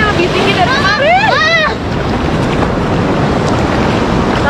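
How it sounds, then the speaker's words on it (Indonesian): Ocean waves at Pasir Putih beach in Pangandaran, with higher surf than usual, make a loud, steady broadband roar mixed with wind buffeting the microphone. Brief high, voice-like calls rise over it early on. "Ombaknya lebih tinggi dari kemarin."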